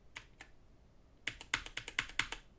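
Quick keystrokes on a computer keyboard: two isolated taps, a short pause, then a fast rapid run of crisp clicks, close and clear in a quiet room.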